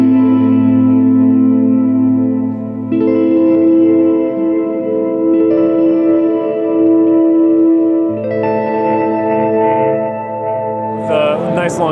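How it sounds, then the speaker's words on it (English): Sustained guitar chords through a Source Audio Collider pedal's hall reverb, each chord blooming and ringing out with a long, thick tail. "I'll turn on reverb and I'll just get a nice kind of hall sound. Big, thick reverb."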